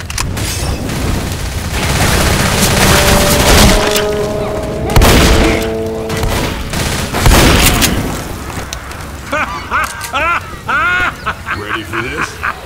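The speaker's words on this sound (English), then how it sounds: "Molotov!" In the Left 4 Dead video game, a thrown Molotov bursts with heavy booms amid bursts of gunfire and chaotic game noise, while players talk over the action, ending in quieter chatter.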